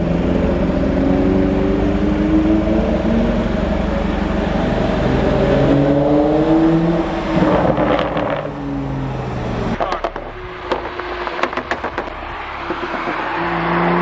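Tuned 370 hp BMW 335i F30 engine revving loudly, rising and falling through several pulls, then rapid sharp crackles and pops as the throttle closes, with a brief faint voice near the end.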